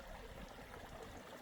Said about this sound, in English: Let's all stare at this beautiful bubbling brook